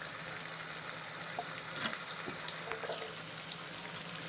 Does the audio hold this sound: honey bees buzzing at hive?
no